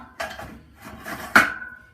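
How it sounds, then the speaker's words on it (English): Metal platen being slid back into a 2x72 belt grinder, a couple of soft scraping slides followed by a sharp metallic clack and a brief ringing tail, close and quiet. "I'm going to slide this platen back in"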